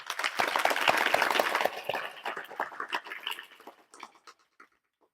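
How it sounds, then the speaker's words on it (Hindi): A school group applauds to thank their principal. The clapping is loud and dense at first, then thins into scattered, fading claps until it stops. "तो हम सभी एक बार उनके लिए तालियों से धन्यवाद देंगे।"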